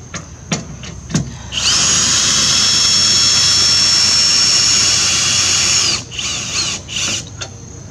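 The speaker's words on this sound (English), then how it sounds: "Plus any excuse to use a power tool." A power drill runs steadily for about four seconds, driving the stabilizer jacks of a Rockwood High Wall 276 pop-up camper down, with a few sharp clicks and knocks before and brief revs after.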